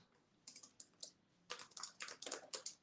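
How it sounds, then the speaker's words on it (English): Fingers tap at a computer keyboard in short bursts of clicks, sparse at first and then a faster, denser run, close by with no one speaking. "I'm trying to type in, y'all."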